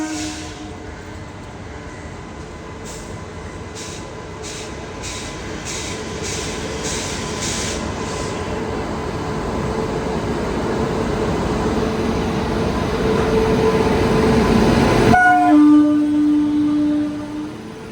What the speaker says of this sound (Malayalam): ദാനാപൂർന്ന് SMVT ബാംഗ്ലൂർക്ക് പോകുന്ന സംഘമിത്ര എക്സ്പ്രസ് ആണ് ഈ പോകുന്നത് കേട്ടോ.